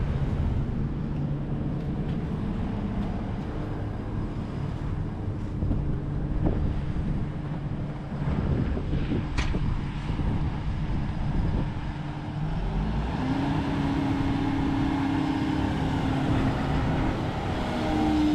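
Heavy excavator engine running with hydraulic boost engaged during back-to-back machine tests, a steady loud low drone with wind noise over the microphone and a rise in engine pitch partway through.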